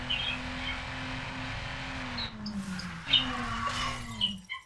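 A car racing in Need for Speed Underground, its engine droning steadily and then revving through several shifts with sharp pitch drops, plus a few bright chirping game effects, up close with no talk.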